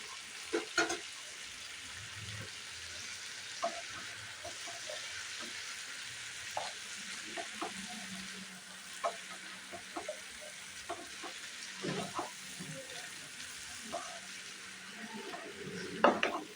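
Vegetables fry lightly in a pan with ginger paste and salt, a soft, steady sizzle running throughout, broken by occasional small stirring clicks and knocks.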